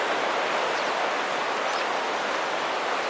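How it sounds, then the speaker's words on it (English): Glacier Creek in Montana's Mission Mountain Wilderness, a steady, broad rushing roar of fast water that holds constant throughout. "That roar that you're hearing in the background is Glacier Creek"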